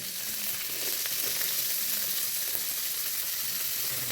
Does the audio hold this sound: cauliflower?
yes